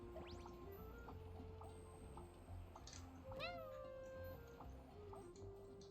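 A pet cat gives a single short meow midway, faint against a quiet background of game music and soft chiming tones.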